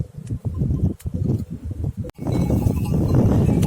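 A flock of sheep and goats grazes nearby at night on upland pasture, with rustling, shuffling and faint bleats, then a steady rush of strong wind takes over.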